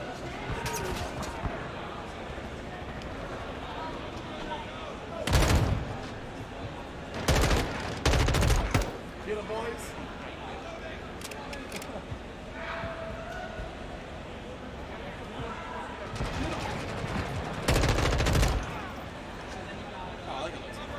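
Bursts of gunfire from the Modern Warfare 2 video game in indoor gunfights, with a few loud broadband volleys standing out over continuous talk and game background noise.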